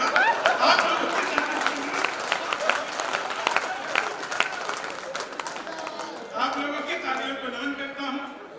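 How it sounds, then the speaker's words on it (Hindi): An audience at a Hindi poetry gathering in Mainpuri claps loudly and steadily throughout, with a fresh swell of clapping toward the end, while someone speaks over it. "आप लोग जिस तरह से ताली बजा रहे हैं"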